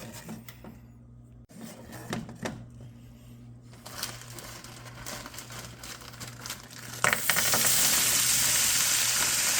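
A pan of Jiffy Pop popcorn heats in butter, starting with quiet crinkling and soft sizzling that builds into a louder, continuous frying hiss near the end.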